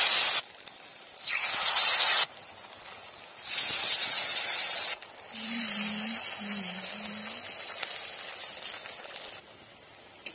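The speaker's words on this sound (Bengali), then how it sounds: "তেল গরম হয়ে গেছে, ওখানে বড়াগুলো ছেড়ে দেব" Cabbage fritters drop into hot white oil in a wok, giving bursts of loud spitting hiss that come and go in waves, with brief quieter gaps between them.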